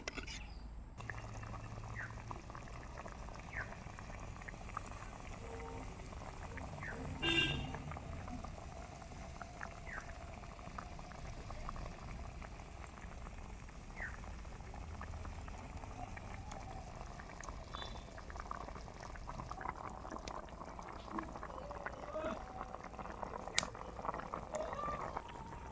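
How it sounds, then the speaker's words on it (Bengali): Curry gravy for an egg and cauliflower curry simmering in a pot, a soft steady bubbling and popping that stays faint and low throughout, with a few small clinks near the end. "ঝোলটা ফুটে গিয়েছে, এবার আমি বাটা গরম মশলা দিয়ে দেব।"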